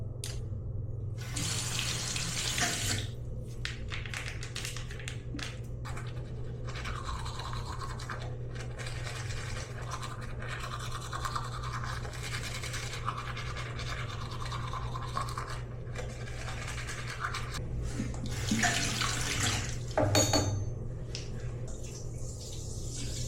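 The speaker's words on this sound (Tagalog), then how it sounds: "Toothbrush. Brush your teeth." Toothbrush scrubs briskly in steady strokes while tap water runs continuously into a sink, close by and fairly loud, with occasional clinks and splashes; no one speaks.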